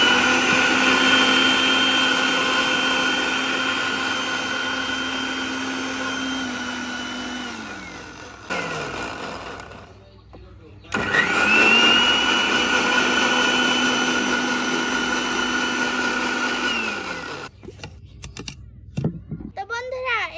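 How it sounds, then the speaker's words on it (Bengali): Close and loud, an electric blender whirs through neem leaves, sugar and water in two long runs. Each run holds a steady motor whine that winds down between bursts, followed by short stops and starts at the end. "তো এবার আমি ভালোভাবে ব্লেন্ডার করে নেব।"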